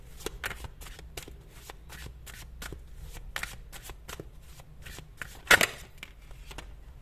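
Tarot cards being shuffled by hand, a quiet steady run of soft papery slides and riffles with a sharper, louder snap of cards near the end; no voices.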